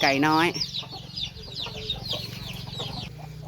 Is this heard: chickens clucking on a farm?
yes